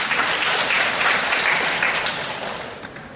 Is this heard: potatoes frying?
no